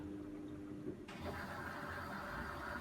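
Steady rushing of rinse water filling an Indesit Moon washing machine begins abruptly partway through, joining a low mechanical hum, continuous and moderately loud.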